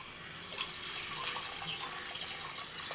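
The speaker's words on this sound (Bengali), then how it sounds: "একটু জল দিয়ে দিচ্ছি" Water pours into a cooking pot holding mutton and ginger-garlic juice for boiling, a steady splashing trickle close by at moderate volume, with no voices.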